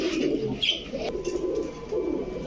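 Pigeon coos come low and soft and repeat in a murmuring rhythm among other birds at a pigeon market, with a faint higher chirp partway through.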